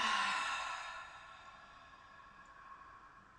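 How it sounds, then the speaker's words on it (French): A single long, soft exhalation through the mouth during a hatha yoga breathing exercise, starting breathy and gradually fading away, quiet and close. "Et on expire par la bouche."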